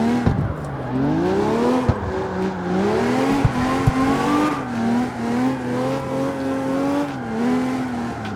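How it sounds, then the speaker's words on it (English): A big rear-engined V12 drift car in CarX Street wails loud and close, its revs rising and falling in sweeping waves as the tires scrub and squeal through a slide, with no talk. "we've got a nice drift car. Not the easiest drift car, because I think because the engine's in the back, and in fact it's a big fat V12"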